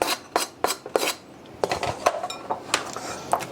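Cucumber, tomato and feta salad with fresh parsley tossed in a bowl, giving a rapid series of close, bright clinking and scraping knocks of utensils against the bowl, fairly loud and irregular.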